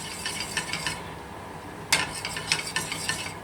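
Sausages frying in a little oil over low heat, a soft sizzle beneath repeated scraping strokes of a utensil moving them around the pan.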